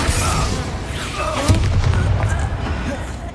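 A Confringo explosive spell from Hogwarts Legacy goes off with a loud booming burst. A crackling, fiery swirl follows amid close combat noise, and a voice is briefly heard.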